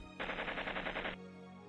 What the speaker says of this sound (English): the noise from Kasai's machine gun sounded at the same time